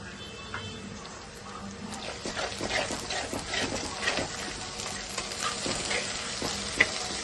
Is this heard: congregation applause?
no